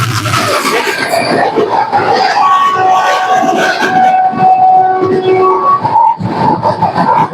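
A local passenger train on the line toward Kamakhya, Assam, heard amid a loud, busy crowd, with sustained tonal horn- or whistle-like notes rising over the constant chatter and clatter.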